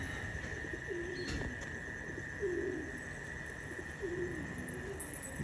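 Racing pigeons coo softly in a loft, three low rolling calls spaced a couple of seconds apart over a constant background hiss and faint chirps.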